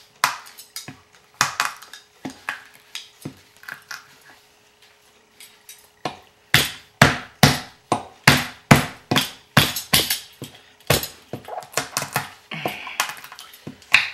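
Nuts folded inside a paper towel are crushed with a spoon for banana nut waffles, giving a long run of sharp, close cracking thuds, sparse at first and then a steady rapid series of hard hits with no talking.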